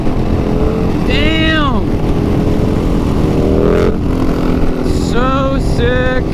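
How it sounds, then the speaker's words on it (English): A KTM Super Duke motorcycle revs hard as it lifts into a wheelie, the engine rising and falling in loud surges under wind roar, with a man's brief exclamation partway through. "Super Duke wheelies."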